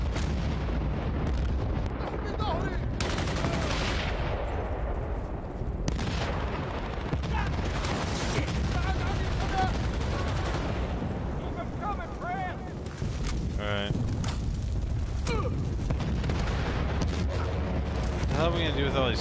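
Gunfire and heavy explosions roar continuously in the war video game Battlefield: Bad Company, a dense, loud barrage of shots and booming blasts with rumbling battle noise throughout.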